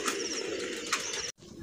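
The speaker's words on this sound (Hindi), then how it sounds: "ये है जी कबूतर" A captured pigeon coos softly nearby in short throaty bursts, with a brief dropout midway before the cooing resumes.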